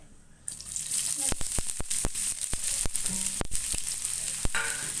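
Sliced onions frying in hot oil in a pan for an egg and potato cutlet recipe, a steady close sizzle with repeated sharp clicks and scrapes of stirring.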